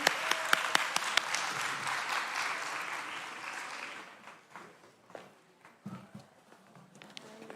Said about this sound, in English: Can you please clap for Dr. Barnes to come to the stage, please?